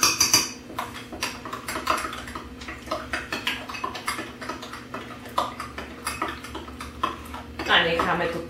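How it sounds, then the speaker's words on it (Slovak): A spoon clatters and scrapes in a bowl while homemade thin-crust pizza dough is stirred with a little added flour, giving steady close scraping and tapping with a brief louder burst at the end. "Zamiešame si to. Pridáme si do toho ešte troška múky."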